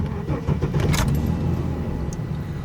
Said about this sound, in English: So I'll start it up and we'll have a listen to how it sounds